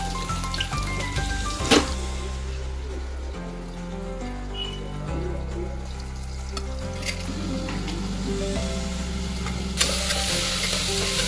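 Pulao rice cooks in a pot at home, a continuous soft sizzling and bubbling close by, with occasional stirring clatter and a steady hum in the background.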